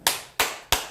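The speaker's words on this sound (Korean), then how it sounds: "박수." Three sharp, evenly spaced hand claps ring out one after another at the close of a Korean lecture, each a crisp, near, fairly loud smack with a short fading tail and no voices.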